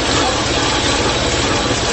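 A loud Honda VFR1200 V4 motorcycle engine rumbles steadily up close, a dense throbbing exhaust note from a flat exhaust running without pause.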